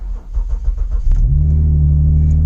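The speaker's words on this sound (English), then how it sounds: "probably one of the last starts the car will do as far as the engine in this car" A failing Ford Taurus SHO engine is cranked by the starter in a few rhythmic turns, then catches and settles into a loud, steady idle close by.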